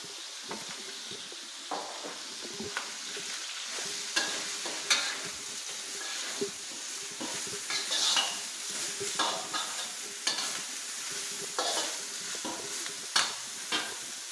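Mixed mushrooms stir-fried in a pan, a steady soft sizzle broken by frequent scraping stir strokes and light clinks of the utensil, close and continuous with no talking.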